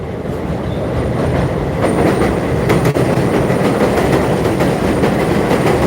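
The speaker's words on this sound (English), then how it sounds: "There goes the train." A train rumbles past close by in Bensonhurst, Brooklyn, a steady loud roar of wheels and carriages with faint rhythmic clacking and brief metallic squeals.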